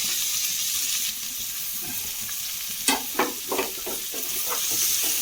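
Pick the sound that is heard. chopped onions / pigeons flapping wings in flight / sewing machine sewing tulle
chopped onions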